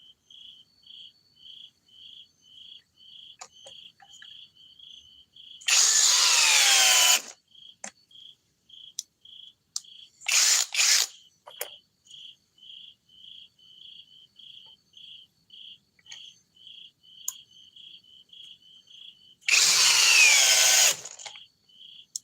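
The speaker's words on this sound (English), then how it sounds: "Okay, in drill mode. Let's see how fast this is." Three short bursts of a high-pitched whirring power drill, the first and last a second or so long, over a steady chirping of crickets.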